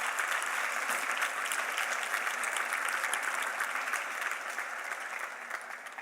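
Church congregation applauding, a dense, steady wash of clapping from many hands that holds evenly and fades slightly near the end, with no talk over it.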